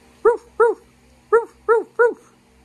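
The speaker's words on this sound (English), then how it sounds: "What does a dog sound like?" A dog gives five short, sharp barks in two quick bursts, close and fairly loud in a quiet indoor room.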